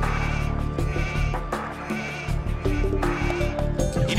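Sheep bleat repeatedly in Age of Empires II, game bleats rising over a steady bed of in-game music and ambience, several calls spread through the stretch at moderate loudness.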